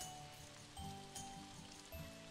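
Steady rain falls in the farming video game Story of Seasons: Pioneers of Olive Town, a continuous soft patter under game background music with repeating tones, no talking.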